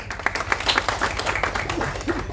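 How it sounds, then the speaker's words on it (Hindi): Clapping from a small audience at a local committee meeting, a scattering of hand claps with crowd murmur, fairly close and steady for a couple of seconds. "सर के लिए जोरदार तालियां"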